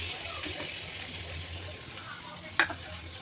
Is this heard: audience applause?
no